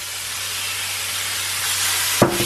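Meat for shawarma is laid into a hot pan and sizzles with a steady, loud hiss, ending in a brief clatter near the close.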